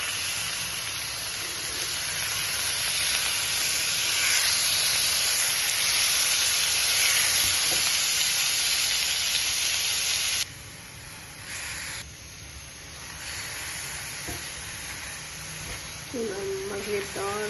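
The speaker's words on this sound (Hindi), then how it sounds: "चिकन हमने इसमें ऐड कर दिया, हमने बस इसको भूनना है थोड़ा सा" Chicken pieces fry with softened onions in a pan, a loud, steady, broad sizzling hiss that runs throughout and drops noticeably in level partway through, with faint kitchen clinks near the end.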